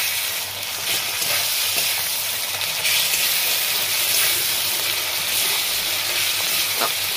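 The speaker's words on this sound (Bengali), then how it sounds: "এবার আদা রসুনের বাটা দিচ্ছিলাম।" Ginger garlic paste hits half-fried onions and green chillies in hot oil for chicken keema, a loud, constant sizzle with faint stirring scrapes, close up and without talk.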